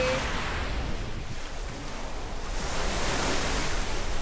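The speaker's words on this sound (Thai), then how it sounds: "ทะเล" Sea waves at Pattaya beach wash in a steady, broad roar of surf mixed with wind noise buffeting the microphone, continuous throughout, with no voices.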